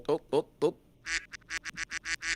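Ducks quacking: about eight short, rasping quacks in a quick, even rhythm, close and fairly loud, after three longer, more tonal calls at the start.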